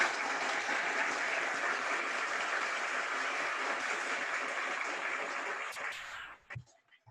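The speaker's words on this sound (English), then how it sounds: "Let's get a round of applause for those guys" An audience at a school band banquet applauds, a dense, steady wash of clapping that carries on evenly before fading out near the end.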